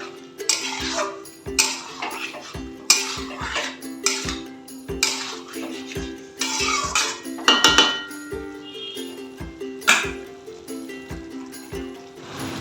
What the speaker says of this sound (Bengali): এবার ভালো করে একটু ফুল আঁচে এটাকে